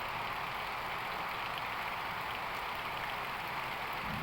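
Heavy, torrential morning rain pours down in Dinajpur, a dense, steady hiss that holds unbroken at an even level from start to finish, with no voices.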